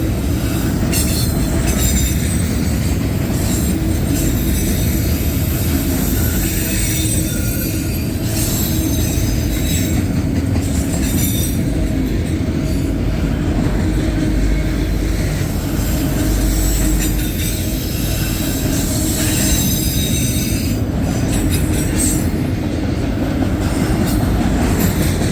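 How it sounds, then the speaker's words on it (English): A CSX autorack freight train rolls past close by, a loud continuous rumble of wheels on rail with metallic squealing and rhythmic clatter sustained throughout, no voices. "Autorack train."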